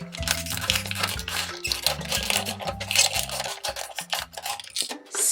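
Scissors or a blade cutting and tearing the label off a plastic bottle, a loud, busy stretch of crinkling, scraping plastic with rhythmic rubbing, played under music.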